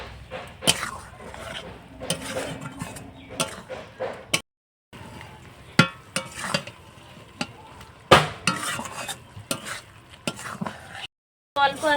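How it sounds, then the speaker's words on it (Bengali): Spinach and paneer curry being stirred in a pan, with scraping spoon strokes and soft clinks against the metal, quiet gaps between bursts, and low sizzling underneath. "তো অল্প আছে এভাবে নাড়তে হবে"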